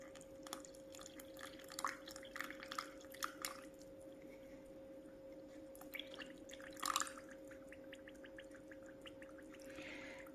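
Water poured into eco casting powder mix, about 80 grams added, gives soft, faint glugging drips and bloops in scattered bursts over a steady low hum, close and quiet with no talk.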